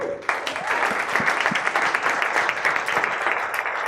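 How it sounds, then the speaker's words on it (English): Steady applause from a crowd, a dense wash of clapping that holds evenly throughout. "let's give a big round of applause to Christine."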